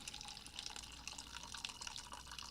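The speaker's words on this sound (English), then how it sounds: "Yes, so I'm pouring my refilling my coffee." Coffee being poured to refill a cup, a steady faint liquid trickle with dripping close by, no talking.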